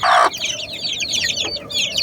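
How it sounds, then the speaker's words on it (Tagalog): Native Bisaya chickens clucking close by, a loud squawk at the start followed by a steady run of busy clucks and chatter. "pure Bisayang manok yan"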